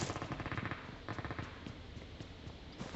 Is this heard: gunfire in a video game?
yes